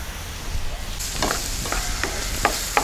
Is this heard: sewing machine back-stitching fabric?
no